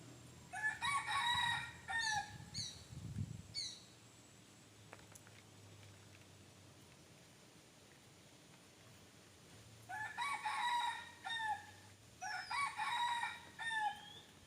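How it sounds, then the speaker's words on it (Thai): A rooster crows repeatedly in an outdoor garden where hoya plants are being tended, loud bursts of crowing near the start and again toward the end, with quieter gaps between. "ไก่ขันดีจริง ๆ เลย"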